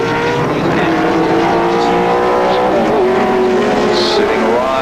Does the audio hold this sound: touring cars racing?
yes